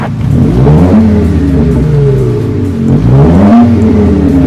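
A Mercedes-Benz W204 with an electronic speaker exhaust simulates a BMW M4-style sports car engine, revving up and down repeatedly, a deep rumbling exhaust note rising and falling in pitch, loud and close.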